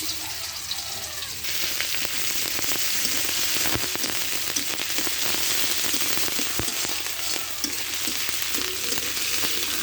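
Whole peeled garlic cloves hit hot oil for a fish curry, setting off a steady, loud, close sizzle with crackling spatter that holds for nearly ten seconds without talk.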